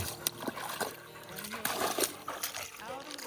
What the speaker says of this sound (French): marche dans toutes les flaques